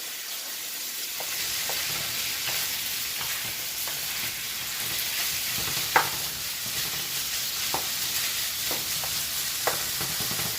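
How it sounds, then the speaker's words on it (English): Steady sizzling of chicken browning in hot oil for a stir-fry, with occasional soft pops and stirring clicks, no talking. "We're gonna brown the chicken."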